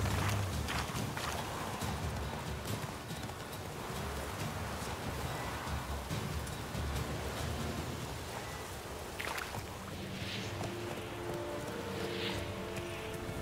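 Horse hooves walking in The Witcher 3, a steady clip-clop of footfalls over a low ambient game soundscape, with a faint whinny-like tone and soft chimes late on, no talking.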